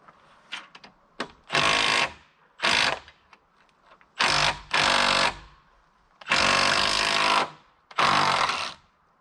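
A power drill driving through a torque extension to back a fastener out of timber, in several loud whirring bursts of one to two seconds separated by short clicks and pauses.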